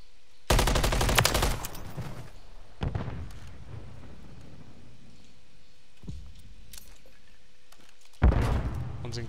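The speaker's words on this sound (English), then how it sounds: "Stop shooting." Gunfire in Call of Duty Modern Warfare 3 ranked multiplayer: loud bursts of rapid shots open the clip, followed by isolated single cracks and a final close burst, with game ambience between them.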